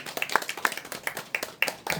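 A small outdoor crowd at a tree-protection protest claps for their general secretary, sparse and uneven with distinct individual hand claps standing out, moderately close.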